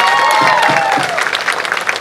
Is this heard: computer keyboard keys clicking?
no